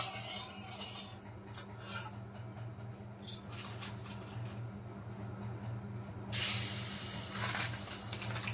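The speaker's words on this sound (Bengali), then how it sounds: "পটল ভাজি করছি আর হচ্ছে গিয়ে চাল কুমড়ো" Pointed gourd (potol) frying in a pan, a steady soft hiss and sizzle that swells louder toward the end over a low constant hum.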